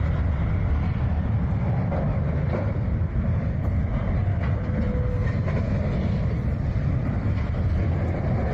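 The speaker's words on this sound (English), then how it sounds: "that train was going fast, too." A fast train rushes past in a steady, loud roar of wheels and rail rumble, continuous throughout with faint rhythmic clatter and no voices.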